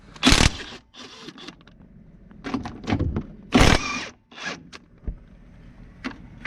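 Ratcheting and metallic scraping bursts from a 15mm socket wrench loosening the upper control arm bolts on a Corvette C7 during lowering work, several short irregular clicking runs close by with pauses between, no talking.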